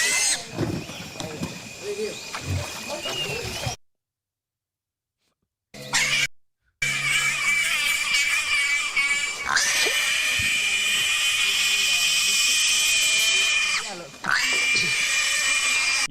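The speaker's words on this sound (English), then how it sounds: "they made him squeal like a pig" Recorded audio of a pig plays, with high, strained squeals and grunting squeaks in long bursts broken by brief silences, and voices talk over parts of it.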